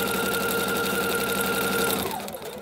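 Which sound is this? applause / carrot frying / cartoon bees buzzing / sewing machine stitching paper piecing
sewing machine stitching paper piecing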